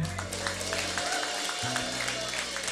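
An audience applauds at the Indie Bali Generation concert. Soft, continuous clapping sits low under music tones and a speaker's voice.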